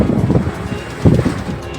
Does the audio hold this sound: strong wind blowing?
yes